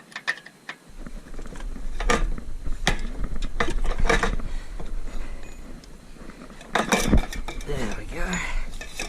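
A 10 mm wrench works loose a brake line fitting on a Yamaha XVS650 motorcycle during a fork and wheel swap, giving close metallic clicks, ratcheting and clinks in irregular bursts against a steady low hum.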